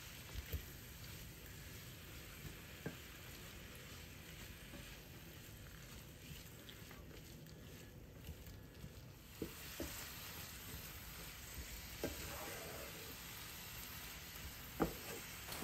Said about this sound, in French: On fait revenir les épinards avec le reste